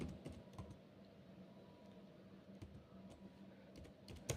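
Keystrokes on a computer keyboard while entering data in Tally accounting software, a steady patter of quiet clicks with a few sharper taps near the end, close and alone.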